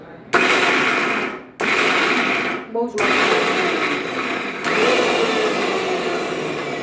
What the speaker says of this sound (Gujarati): મિક્સરમાં કરતા હોય અને પાછું ચાલુ બંધ ચાલુ બંધ કરીને